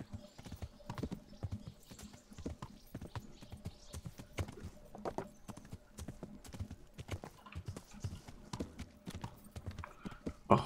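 Steady rhythmic clip-clop of horse hooves at a walking pace in the video game Kingdom Come: Deliverance, fairly quiet and continuous, with no talking over it.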